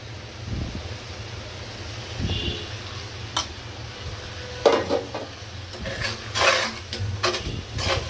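Chili powder being stirred into hot oil in a frying pan, a low continuous sizzle with scraping stirs and clatters growing busier toward the end, close and without talk.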